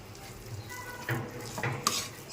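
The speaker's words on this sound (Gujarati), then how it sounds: "હવે હું આને 5 મિનિટ માટે આવી રીતે શેકી લઈશ" Something being roasted in hot ghee in a pan over a low flame, soft sizzling under a few scraping stirs and light clinks of a utensil against the pan, close and quiet.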